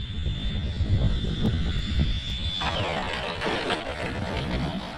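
An E-flite F-16 Thunderbird RC jet comes in to land on a runway on a gusty day, its ducted-fan whine steady and fairly close, mixed with heavy wind rumble throughout.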